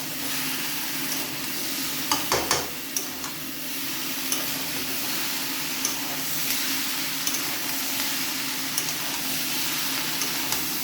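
Ridge gourd and part-boiled, fried potatoes cooking in a pan as a curry, with a steady soft sizzle and intermittent scraping stirs and taps of a spatula against the pan, no talk.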